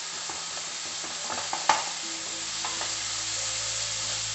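Tomato and onion frying in oil in a pan for a hotel-style Tulu egg gravy, a steady soft sizzle with occasional stirring scrapes and one sharper clatter, close by with no talk.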